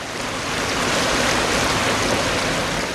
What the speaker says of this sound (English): This is one of the tertiary drains discharging grey water into Soba stream.